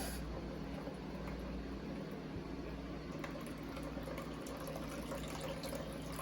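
Steady trickling and splashing of cucumber juice pouring through a strainer, constant and close, with no talking.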